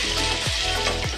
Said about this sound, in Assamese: পিঁয়াজখিনি আগতে ভাজি অলপ ৰঙচুৱা হোৱালৈ ৰাখিম